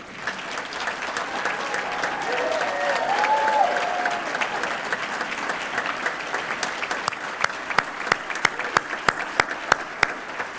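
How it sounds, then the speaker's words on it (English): Loud, sustained applause at a Hall of Fame ceremony honoring a homecoming steering committee: a dense crowd of clapping swells and a voice murmurs in the middle, then it thins out to scattered, sharper individual claps that fade away. "be recognized with a thunderous applause"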